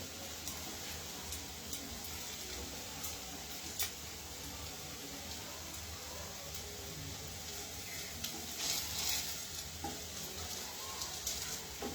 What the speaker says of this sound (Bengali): দেখুন ভাজাগুলো কিন্তু আস্তে আস্তে হয়ে আসছে।